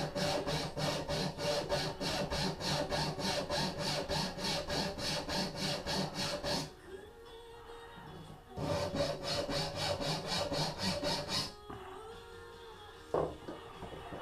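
Bamboo is rasped or sawn by hand to shape the top bevel of a self nock: fast, even back-and-forth scraping strokes in two long bursts with a short pause between, close and loud, no talk.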